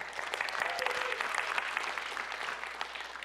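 A church congregation claps together in a steady, dense burst of applause, loud and close, filling the hall without a break.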